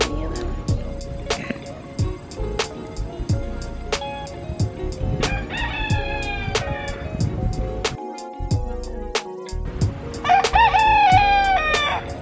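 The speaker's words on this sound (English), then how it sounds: "Here's the chicken coop." Chickens cluck and a rooster crows repeatedly at a busy chicken coop in Cape May, New Jersey, the crows rising clearly over steady clucking and outdoor ambience.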